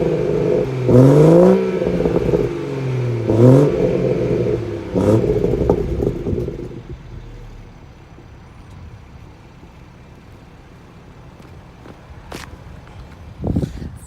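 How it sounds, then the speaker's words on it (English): A 2018 BMW 440i on its stock exhaust revs three times, each rise and fall deep and loud up close, before settling to a quieter idle with a few light knocks. "For a stock exhaust, that sounds phenomenal if you ask me."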